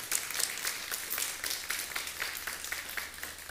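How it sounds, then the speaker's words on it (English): A church congregation claps together in a sustained round of applause, moderately loud and evenly spread across the room, with no one speaking over it. "Let's appreciatively applaud the Lord for Pastor T."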